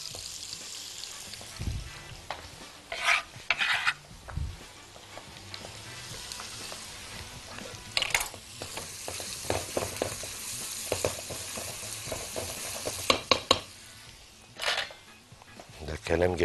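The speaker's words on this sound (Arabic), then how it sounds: "نشوح الزبدة مع البصل" Butter and onion sauté in a pan, a steady close sizzle with intermittent scraping and stirring clatter, heard under someone talking.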